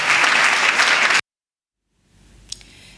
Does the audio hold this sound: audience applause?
yes